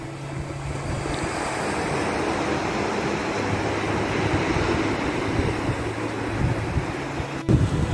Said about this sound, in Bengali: আমরা এখন আছি থোদলাকোন্ডা বিচে। তোমরা নিশ্চয়ই সমুদ্রের আওয়াজ শুনতে পাচ্ছ।